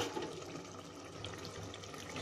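Water splashes and pours steadily into a cooking pot while making mushroom biryani, a soft continuous gush with no talking.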